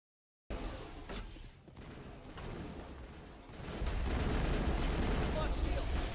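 Rockets exploding in the video game Mass Effect, a dense crackle of blasts and gunfire that swells into a loud continuous barrage, with a voice speaking over the combat.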